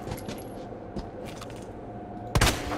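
A few sharp gunshot cracks from the video game Resident Evil 2, fired at a zombie, with one louder burst near the end over a constant low hum.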